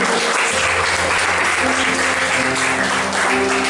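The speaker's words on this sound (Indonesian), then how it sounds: "Beri tepuk tangan buat Tuhan" A congregation at a church retreat sermon gives loud, sustained applause, a dense wash of many hands clapping steadily throughout with no talking over it.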